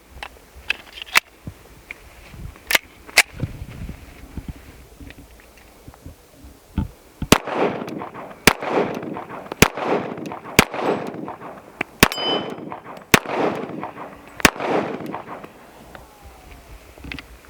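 Sharp gunshots from a Tisas 1911 pistol emptying its final magazine in a torture test: a few scattered shots at first, then a rapid, evenly spaced string of loud cracks, each followed by a brief metallic ring and echo.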